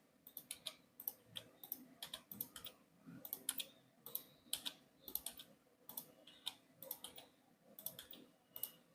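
Keys tapping on a computer keyboard, a faint, quick run of light clicks in uneven rhythm, close and alone, with a soft background hum.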